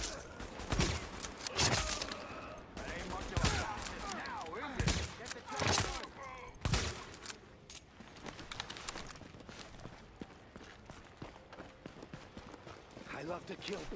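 Rapid gunfire bursts from the video game The Division, loud sharp cracks clustered in the first seven seconds, then fading to scattered shots and background game noise, with voices talking over the action.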